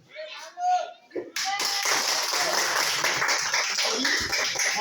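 Group of children clapping together after a syringe demonstration, a dense burst of applause starting abruptly and sustained at steady loudness, preceded by a teacher's voice speaking.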